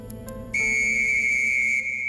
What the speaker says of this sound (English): The whistles are blown and the men come out of the trenches.